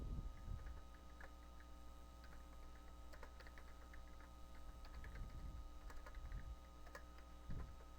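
Keys clatter on a computer keyboard in irregular bursts as form details are typed into HR software, close and fairly quiet over a steady low hum, with no talking.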